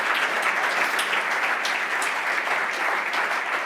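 Audience applause at a county board State of the County event, a dense, steady wash of clapping from a large crowd lasting the whole stretch.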